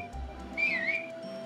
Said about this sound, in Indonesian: siulan itu tuh untuk manggil anjingnya nanti